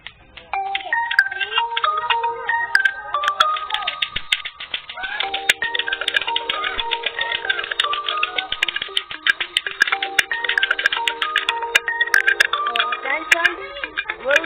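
A phone ringtone melody plays in a bright, repetitive electronic tune, steady and fairly close, with clicky percussive ticks running through it and no talking.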